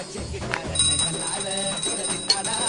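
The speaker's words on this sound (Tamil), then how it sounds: "ஏய் டாடி, பெல் சத்தம் கேக்குதுல," A calling bell at a house door rings in short bright bursts, heard under a busy mix of background music and room sound.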